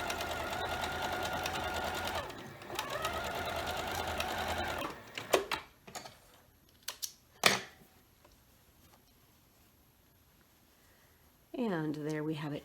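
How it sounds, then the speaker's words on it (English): A sewing machine stitches a quarter-inch seam through scrappy quilt fabric, running in a steady near burst of rapid stitching for several seconds, followed by quieter handling clicks and a short second whir near the end. "I am going to sew a 1/4 inch seam allowance from there down to there."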